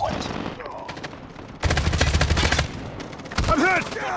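Loud automatic gunfire from a Call of Duty Mobile 10 vs 10 team deathmatch arrives in sustained rapid bursts mixed with game effects. Short in-game voice callouts can be heard between the volleys.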